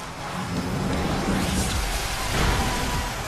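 Thunder move effect from a Pokémon Sword and Shield battle, a loud sustained rumbling, crackling roar like a storm burst that swells and holds steady through the whole moment with no talk.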